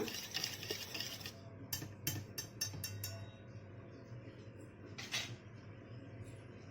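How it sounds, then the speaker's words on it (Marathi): Eggs whisked in a bowl for Indian egg bread, a quick series of light clinking taps of utensil against dish, then a brief pause and one more scrape, faint and close. "आता आपण हे अंडे काय करूया मिक्स करून घेऊया"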